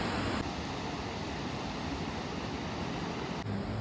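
A constant broadband roar of rushing water from a monsoon waterfall in Mussoorie, steady and enveloping, with no voices.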